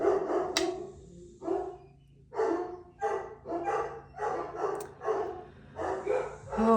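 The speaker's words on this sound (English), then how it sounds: "Oh my goodness, my dogs are nuts." Several dogs bark in short, loud bursts, roughly a dozen barks repeating at an irregular pace across the stretch, nearby and alone, with no talking over them.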